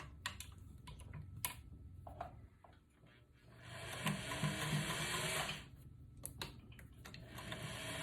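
A sewing machine stitching two turned-in fabric hems together down a long side, its needle ticking in a rapid, steady run that swells loudest midway, close by and with no talk.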